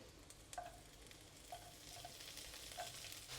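Quiet sizzling of fermented black beans frying in a pan with occasional soft scraping as they are stirred around, steady and low, no voices.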